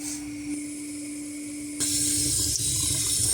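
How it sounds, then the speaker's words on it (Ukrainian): Cold running water pours steadily from a tap over mushrooms being rinsed, quiet at first and then louder and fuller as the flow strengthens, with no talking. "Промиваємо гриби холодною водою"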